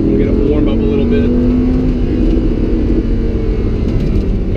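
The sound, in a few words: Lamborghini Huracan engine revving during warm-up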